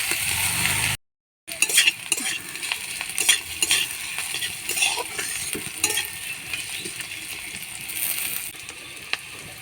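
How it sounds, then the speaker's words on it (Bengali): Chopped onions sizzle steadily in a pan as a utensil stirs and scrapes them, with small clinks throughout, after a brief silent gap near the start. "পেঁয়াজটাকে ভেজে নেবো লাল লাল করে"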